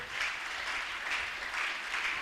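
Congregation applauding together in a church during a worship service, a steady, sustained wash of clapping that stays fairly even throughout with only slight swells, no voices rising above it.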